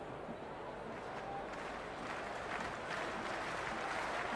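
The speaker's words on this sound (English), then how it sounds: "this crowd is already making it hard for me to be heard" Stadium crowd noise from a Cricket 26 IPL match between SRH and DC, a steady broadband roar that slowly builds in loudness over a few seconds with no clear breaks.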